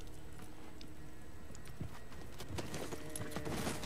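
Horse hooves clip-clop on the ground in a Game of Thrones episode, faint and irregular beneath a busy, noisy crowd-like background.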